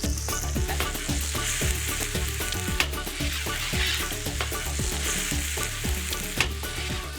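Bomba rice frying in sofrito in a paella pan, with a steady loud sizzle and crackle and repeated scraping stirs of a spoon across the pan, close and continuous with no voices.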